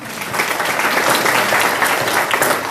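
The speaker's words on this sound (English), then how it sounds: "Maybe Shri Dr. Ahirji from Greytown may have a round of applause for his presence here today" Steady audience applause at a talk on meditation fills the whole stretch, a dense, even patter of many hands clapping that holds at a constant level with no voices over it.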